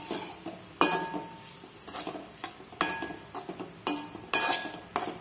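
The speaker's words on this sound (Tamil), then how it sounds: "சேர்த்துட்டு அப்படியே கிளறி விட்டுருங்க" A spatula stirs fried egg through a sizzling pan mixture for egg rice, with sharp scraping strokes recurring roughly every second over a faint, steady sizzle.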